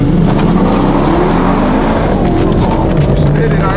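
2024 Ford F-150 4x4 roaring as its engine revs hard and the tires spin, a loud, close, dense rumble with a voice briefly audible underneath.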